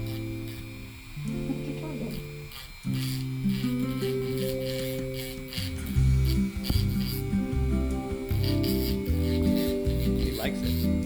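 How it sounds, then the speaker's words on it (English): A rotary tool runs at its lowest speed with a steady tonal whine as it grinds and trims a parrot's beak, the pitch shifting as it presses on, with rustling throughout. "so this is on the lowest speed. All right, time to trim that beak."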